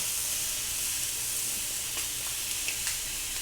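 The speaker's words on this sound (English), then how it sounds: "It's really hot. Got a nice sizzle." Chicken sizzling on a very hot grill, a loud, continuous frying hiss that stays steady throughout, with a few faint pops and crackles breaking through near the end.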